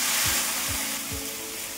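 Soaked rice batter for Konkan ghavane poured onto a hot oiled pan over full flame, giving a steady broadband sizzle with three soft low thuds or pours spaced evenly, no voices.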